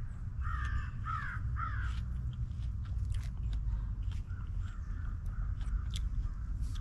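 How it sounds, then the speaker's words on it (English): Crisp, wet chewing of a fresh starfruit (carambola) continues steadily at close range, while crow-like caws sound early on and no one speaks. "My very first carambola, and it is tasting phenomenally good."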